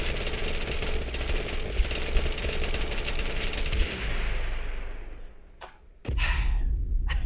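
Heavy rapid gunfire rattles continuously in the battle-royale game TABG, thinning out before a brief pause, then two sharp, loud blasts from a double-barrel shotgun close by.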